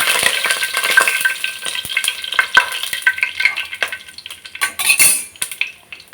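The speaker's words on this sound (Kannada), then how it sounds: "ಚಕ್ಕೆ ಮತ್ತು ಲವಂಗ ಹಾಕ್ಬಿಟ್ಟು ಇವಾಗ ಪಲಾವ್ ಎಲೆನ ಸೇರಿಸ್ಕೊಳ್ಳಿ." Cinnamon, cloves and bay leaf frying in hot oil for veg biryani, a loud, busy sizzle broken by repeated clinks and scrapes of a metal spoon against the pan, close up and easing off toward the end.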